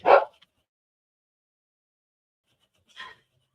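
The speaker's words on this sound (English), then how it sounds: "I don't know if you could hear her barking in the other room." Two short barks from a dog in another room, the first louder and the second fainter about three seconds later, with silence between them.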